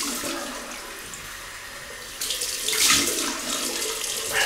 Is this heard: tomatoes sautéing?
no